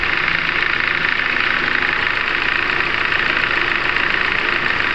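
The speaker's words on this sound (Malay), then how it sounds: "Sekarang enjin tengah hidup." A Proton Preve car engine idles steadily, a loud, even, continuous mechanical drone with a faint knocking texture and no change in pace.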